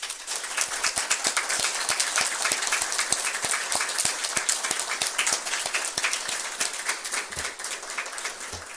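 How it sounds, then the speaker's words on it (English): A student government meeting room applauds standing award nominees: a lively crowd clapping with many crisp individual hand claps audible in a rapid, uneven rhythm, fairly close and sustained, without voices. "why don't you go ahead and stand so we can give you a round of applause"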